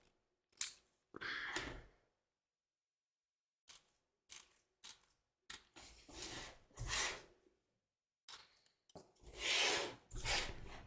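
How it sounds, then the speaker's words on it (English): Scissors trim fabric from around an embroidered heart on a hoop, with short bursts of snipping and rubbing separated by silences and a few longer cutting runs near the end, close and fairly quiet. "We're going to trim away the fabric from around the heart, both back and front of the hoop."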